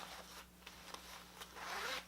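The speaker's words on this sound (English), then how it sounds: "YKK quarter zip there" A YKK quarter zip on a lightweight ripstop combat shirt is worked in short, quiet rasping strokes, several brief zips ending in a longer pull, close and faint.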